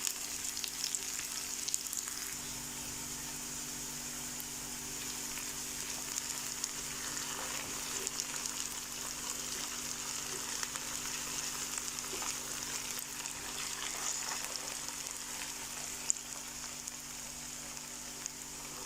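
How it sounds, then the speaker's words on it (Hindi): Onions and potatoes fry in a pan for an Afghan egg, potato and tomato omelette, giving a steady, soft, even sizzle with no one talking. "अभी प्याज और आलूओं को इतनी देर के लिए पकाना है ताकि प्याज और आलू हमारे अच्छे से सॉफ्ट हो जाएं"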